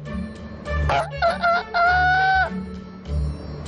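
A human voice imitates a rooster crowing, a loud drawn-out cock-a-doodle-doo with rising and sustained tones over a steady low background hum, heard alone without other talk.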